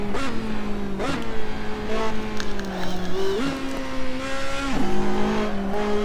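A race car in Assetto Corsa driven flat out through a loose chicane, its loud engine holding a high whine with several sharp dips and rises as gears shift and revs climb, tire squeal mixed in.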